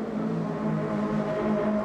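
Touring race cars at the Grand Prix de Trois-Rivières, a CTCC race, hold a steady, loud engine drone with a sustained tonal whine, as if close by on the circuit.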